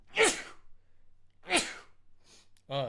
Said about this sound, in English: I gotta sneeze, give me a second.